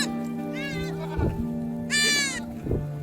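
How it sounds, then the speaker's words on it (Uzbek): Two wavering sheep bleats rise close by from a flock with lambs being driven to summer pasture, a short one followed by a louder, longer one, with soft thuds and a low rumble underneath. "qo'ylar"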